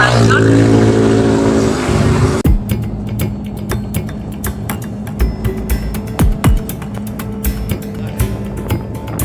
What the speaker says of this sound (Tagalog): maraming sasakyan ang dumadaan. Kung kaya't medyo maingay